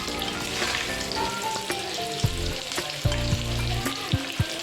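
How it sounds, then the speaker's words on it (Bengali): Potatoes frying in a pan for egg biryani with aloo dum, with a steady crackling sizzle throughout and a few sharp utensil clacks and scrapes against the pan, close and clear with no talking. "আলুটা ফ্রাই হয়ে গেছে এবার আলুটাকে আমি লাল লাল করে ভেজে নিয়ে এবার তুলে ফেলবো"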